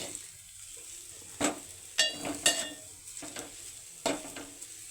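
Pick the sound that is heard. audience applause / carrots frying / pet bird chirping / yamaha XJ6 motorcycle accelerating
carrots frying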